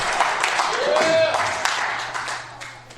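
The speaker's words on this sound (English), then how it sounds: "All right, clap for these new jokes." A comedy club audience claps and applauds, a short burst of many hands with a whoop rising over it. The clapping fades within a few seconds.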